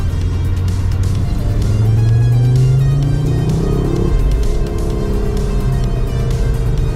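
Car accelerating hard on a race track, a loud engine note rising in pitch then shifting over wind and road noise, with an instructor's voice speaking under it.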